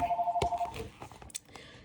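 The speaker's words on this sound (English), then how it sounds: "I have a landline phone and literally it never rings, and it's gonna ring right now." A landline telephone rings indoors with an electronic tone burst near the start, followed by scattered clicks and knocks as the ringing cuts off.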